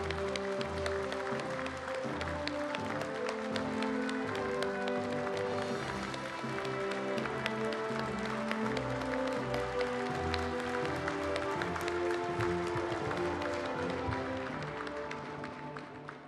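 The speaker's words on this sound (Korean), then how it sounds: "윤석열 대통령께 다시 한번 큰 박수 보내주시기 바랍니다" A large crowd at the launch ceremony of the next-generation Aegis destroyer Jeongjo the Great gives sustained applause that continues steadily and tapers off slightly at the end.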